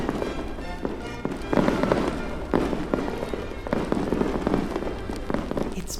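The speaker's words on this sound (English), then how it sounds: "the firework display is about to start in a jiffy" Fireworks at a display synchronised with music crackle and pop continuously, with louder bursts every second or so over a dense, rain-like sizzle; fairly loud and sustained, no voices.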